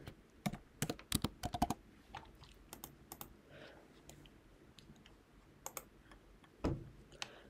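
Keys clatter on a computer keyboard in quick irregular bursts while page dimensions are entered, crisp close clicks that thin out into sparse taps.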